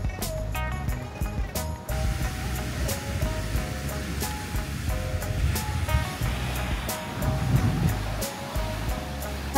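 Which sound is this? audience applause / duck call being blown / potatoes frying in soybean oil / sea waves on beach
sea waves on beach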